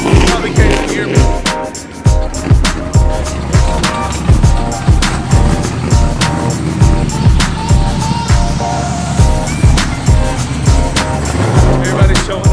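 A loud car engine rumbles at a Drive Florida car gathering, with a harsh, rapid train of pulses that runs throughout close by and drowns out the surroundings.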